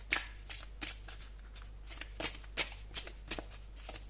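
Long oracle cards are shuffled by hand in quick, crisp riffling bursts, close and fairly quiet, with a faint steady hum underneath and no talking.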